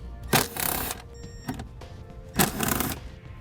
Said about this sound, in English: We have 2 torque screws here. They are T25s. We'll go ahead and remove those.